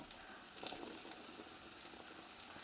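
Drumstick (moringa) pieces drop into a hot pan of spiced masala for a drumstick and potato curry, giving a steady, moderately quiet sizzle with light crackling throughout.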